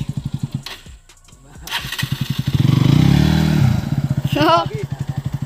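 A Bajaj Pulsar NS 125 motorcycle in a village off-road setting starts and revs, its engine pulsing in a rapid throb that surges and settles, with people talking nearby.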